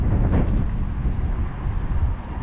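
Wind buffeting a microphone outdoors during a fishing trip, a loud continuous low rumble with gusty swells and no speech.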